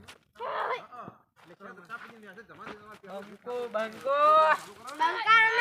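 Several cows moo nearby, long low groaning calls overlapping one another, growing louder and fuller toward the end.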